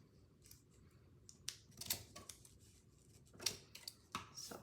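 Scissors snip through paper while trimming a paper tree craft, a series of quiet, irregular crisp cuts in a calm indoor setting with no talking.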